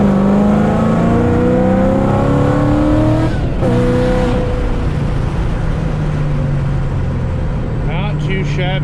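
A 2007 Ford Mustang GT500 accelerates hard, its engine note climbing loudly through the gears with a brief shift break, heard from inside the car, while someone talks over it.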